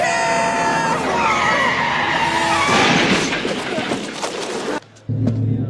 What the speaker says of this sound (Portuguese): Tem aquela cena clássica do qual Biff bate o carro num caminhão cheio de esterco